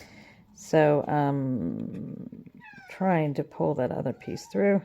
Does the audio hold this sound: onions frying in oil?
no